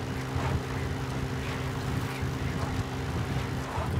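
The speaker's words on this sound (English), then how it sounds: "Call the chopper from your iDroid boss." A support helicopter arrives in Metal Gear Solid V, its steady low rotor and engine drone throbbing in a loose rhythm and holding at a constant moderate loudness throughout, with no voices.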